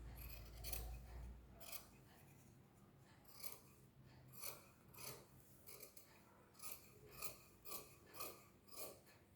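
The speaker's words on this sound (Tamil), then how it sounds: "கை எடுக்காமல் சிசரை நல்லா கட் பண்ணணும்" Fabric shears cutting blouse cloth, a quiet run of about ten crisp snips coming at regular intervals with short pauses, close by and alone without speech.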